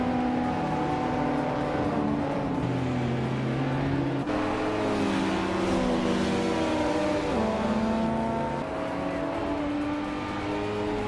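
Race cars including older Nissan Skylines and Porsche 911s racing through tight corners, a continuous loud layered engine drone with shifting revs as several cars pass, no voices heard.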